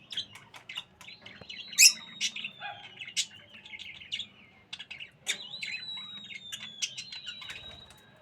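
Pet birds in a large cage chirp and tweet close by in busy, overlapping bursts, with thin whistled notes and occasional brief wing flutters, lively and fairly loud.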